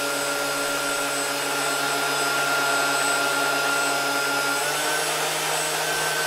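A balanced ten-blade fan unit running under test, a loud, steady, continuous high-pitched whine and rushing drone with fixed tonal hums, holding constant without pauses or voices.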